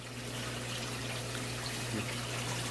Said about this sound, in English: This is my sump in action, the 2 media towers.